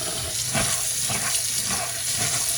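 Hot water runs from a kitchen tap into a sink for rinsing rice, a steady close hiss and splash that continues without a break throughout.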